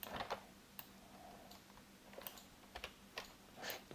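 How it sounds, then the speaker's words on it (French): Keyboard shortcuts tapped on a computer keyboard while working in Illustrator CC: faint, scattered clicks in small irregular bursts against a quiet background, with no talking. "Je conseille les raccourcis clavier."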